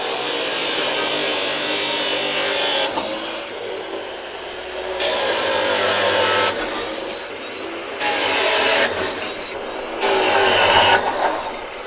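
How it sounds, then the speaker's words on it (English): Power tool cutting 25mm by 3mm 304 stainless steel flat bar to length, a loud high whine in several sustained passes of two to three seconds each, separated by short drops in level. "Now that we've got these cut to length"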